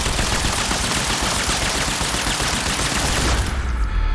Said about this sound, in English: we freeze time and unload all the bullets into his head